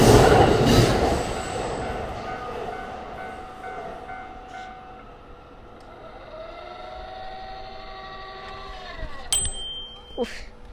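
A train rolls past loudly at first near a Japanese rail depot, then fades into a long metallic wheel squeal that rises and falls, with a sharp screech near the end.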